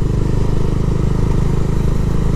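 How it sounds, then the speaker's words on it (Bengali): Steady, loud Bajaj Pulsar 220F engine with an Akrapovic exhaust idling continuously, with a faint high whine running through the rumble. "সামনে একটা ইঞ্জিনে আওয়াজ আসছে, ভালো করে শোনো, একটা হালকা চিনচিন করে আসছে"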